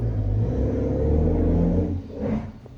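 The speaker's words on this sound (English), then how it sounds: "Somebody revved their car. Somebody just turned their car on." A neighbor's car starting and revving outside, a loud, steady low engine rumble with a rising rev near the end, close by and heard alone.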